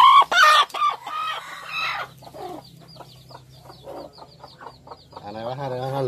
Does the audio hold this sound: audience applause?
no